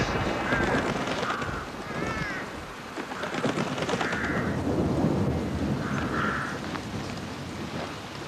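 Rain and thunder as a radio drama sound effect: a steady, loud wash of downpour with low rumbling throughout, plus a few faint high chirps over it.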